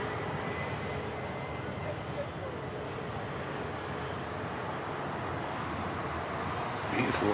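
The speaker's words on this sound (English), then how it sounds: "Beautiful looking Gulfstream, I think there. Catch the touchdown there" A Gulfstream business jet lands at Manchester Airport, a steady moderate engine roar heard from a distance, with a brief louder burst at the end.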